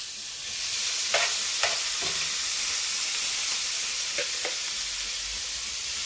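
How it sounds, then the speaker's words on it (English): Shrimp sizzle steadily in hot oil and butter, a loud continuous frying hiss, with a few short clicks and scrapes as they are tossed in the pan. "So my oil and butter is nice and hot. So what I'm gonna do? Put these shrimp, toss these shrimp."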